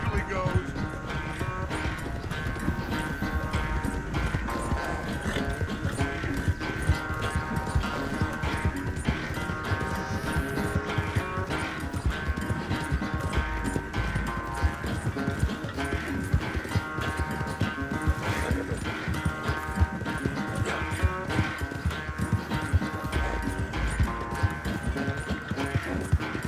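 Horse hooves drum steadily through a race in Red Dead Redemption 2, a continuous clip-clop gallop mixed under game music and voices, with an occasional whinny.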